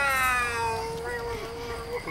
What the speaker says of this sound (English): And then the brassy alley cats.